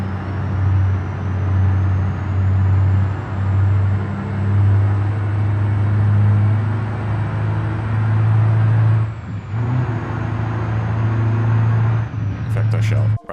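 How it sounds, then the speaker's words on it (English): A heavy hauling truck's engine in BeamNG career mode gives a loud, steady low rumble that holds throughout, dipping briefly near the end, while someone talks over it. "I think the truck's quite loud."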